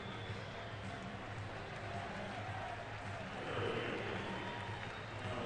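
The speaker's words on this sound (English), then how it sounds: "So Jason Jennings gets a round of applause and fives in the dugout" Crowd at a Major League Baseball game between the Los Angeles Dodgers and Colorado Rockies applauds a pitcher, a steady wash of clapping and murmur that swells slightly near the end.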